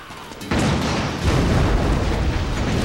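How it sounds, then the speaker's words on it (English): Explosions going off repeatedly during play in the video game Metal Gear Solid 4, a loud dense boom starting abruptly and continuing as a sustained rumbling barrage with no talk. "Explosions going off everywhere."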